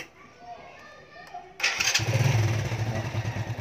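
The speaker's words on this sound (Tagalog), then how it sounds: "sisindihan natin yung motor" A motorcycle engine with a DC CDI ignition is started and settles into a steady idle. It follows a quieter stretch of background sound and stays loud and close.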